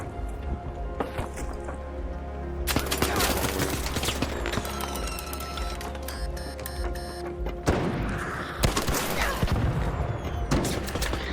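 Gunfire in the video game ARC Raiders comes as rapid bursts of loud close shots and thuds, some in quick pairs, over a dense steady game soundscape with no talking.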